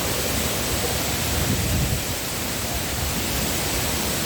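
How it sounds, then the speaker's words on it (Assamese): Heavy rain pours down near a waterfall in Karbi Anglong, a steady, dense, loud hiss that stays constant throughout. "বহুত জোৰে বৰষুণ পৰি আছে।"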